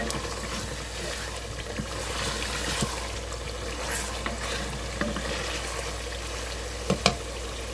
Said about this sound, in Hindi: यहाँ पर अब हम अपना पानी डालने लगे हैं